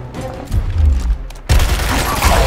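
Lancer assault rifle fire in the video game Gears Tactics: low booming bursts that grow heavier and denser in the second half, loud and close, with no talking.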